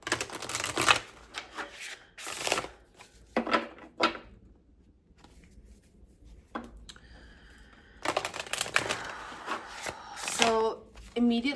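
Tarot cards being shuffled and pulled by hand, with bursts of riffling and slapping interspersed with quieter pauses and a soft voice speaking in between.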